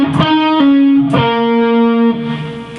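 A distorted electric guitar plays a riff with a pull-off, sounding loud and close as a few sustained, gritty notes ring out alone.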